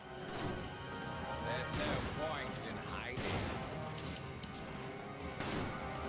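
Gunshots in Resident Evil 5 co-op gameplay, a steady stream of clustered shots and impacts over dense game sound, with people talking throughout.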